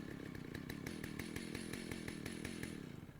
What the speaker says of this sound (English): screaming bloody murder over the sound of my chainsaw